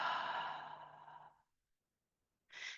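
A slow, deliberate exhale during a calming breathing exercise, a long soft airy breath that fades out over more than a second, then silence, then a brief new breath begins near the end. Close and quiet, with no talking.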